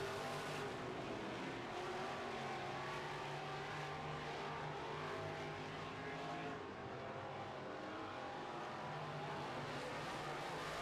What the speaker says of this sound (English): as they race down the back